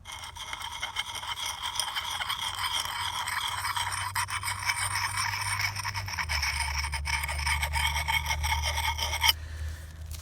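An axe blade is worked against a Lansky dual grit whetstone puck, giving a continuous close rasping scrape that holds steady throughout, with a brief pause near the end.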